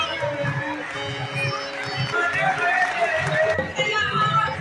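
Evening crowd at Tajuddin Baba Dargah in Nagpur, a steady hubbub of many voices and footsteps nearby, with tonal music or chanting in the background and someone talking close by.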